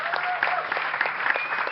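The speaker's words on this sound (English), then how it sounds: "Round of applause for Gregory Russ" Enthusiastic audience applause at a live comedy panel show recording, continuous and fairly close, with a few louder individual claps and a voice faintly audible beneath the clapping.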